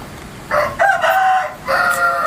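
A rooster crows loudly and close by in a backyard chicken-care setting, giving two strong calls, the first long and drawn out and the second starting near the end.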